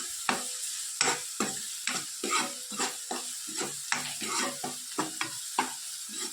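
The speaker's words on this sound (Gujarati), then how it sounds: "સરસ બધું શેકી લઈએ." Masala spices roast and get stirred in a pan ahead of adding spinach: a spatula scrapes in steady, repeated strokes over a continuous soft sizzle, close by, with no talking.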